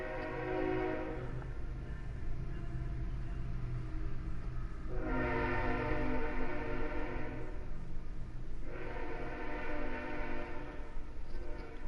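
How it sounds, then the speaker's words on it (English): In a train yard, a distant train horn or whistle sounds in two long sustained blasts over a steady low rumble of rail traffic, with no talking. "Live from the train yard, folks."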